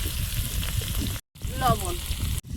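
Whole cumin seeds and garlic fry in hot oil with a dense, steady sizzle, close and fairly loud, broken by two brief cuts to silence.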